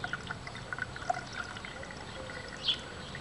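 Water poured into a restored garden watering pump, a faint trickle with small splashes and drips, quiet and close, no voices.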